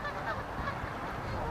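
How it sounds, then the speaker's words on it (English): Geese sit in frozen fog along the Bow River, giving faint, distant honking calls over a low, steady background hiss. "neither did these geese sitting in the frozen fog down along the Bow River"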